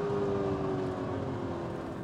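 Mercedes-Benz SLK55 AMG with the 5.4-litre M113 V8 engine gives a steady, muffled low rumble heard from inside the car at a constant moderate level, with a faint tonal whine and no talk.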